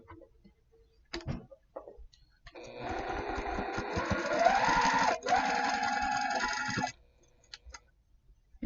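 A sewing machine stitching a quilt block seam gives a few quiet ticks, then a steady, moderately loud whirring run of about four seconds before stopping, heard close.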